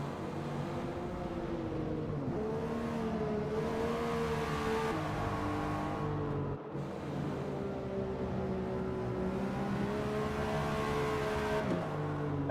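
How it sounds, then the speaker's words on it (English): A race car engine in Gran Turismo 7 drones continuously at high revs, its pitch rising and falling as gears shift, steady and loud throughout. "I think it's the loudest thing because it's a race car"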